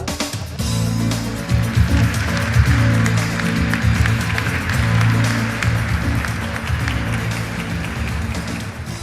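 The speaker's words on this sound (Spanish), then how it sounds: "Recibamos con un fuerte aplauso a Soledad Barruti." Conference audience at Congreso Futuro in Chile applauding a speaker, sustained loud clapping from a large crowd over a low rumbling hum, continuing for about nine seconds.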